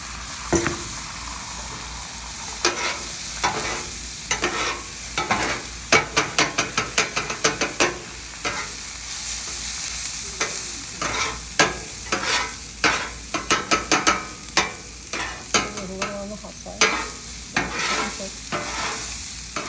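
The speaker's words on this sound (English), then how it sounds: "Put down another layer of oil for the eggs now." Eggs fry in oil on a Blackstone griddle for fried rice, giving a steady sizzle broken by loud, rhythmic scraping and tapping from a spatula working the flat-top.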